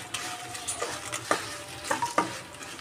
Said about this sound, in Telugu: ఆయిల్ కొద్దిగా వేడయ్యాక ఒక 30 ఎండుమిరపకాయలు వేసుకున్నానండి.